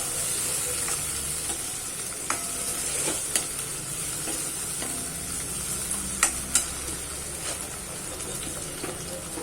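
Ingredients sautéed and stirred in a pan for protein-rich dal dhokli, a steady soft sizzle with scattered scraping stirs and light clinks of the spoon, no voices.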